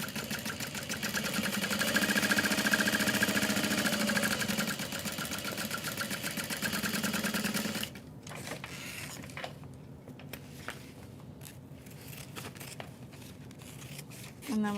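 A sewing machine runs a reinforcement stitch on a fabric tote bag. It hums steadily and loudly for about eight seconds, then stops, leaving quieter handling noises and a voice talking.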